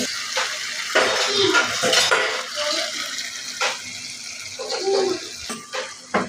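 Wet masala poured into a cooking pot of goat meat curry with tomatoes, a close run of liquid splashes and gurgling pours mixed with light clinks of utensils against the pot.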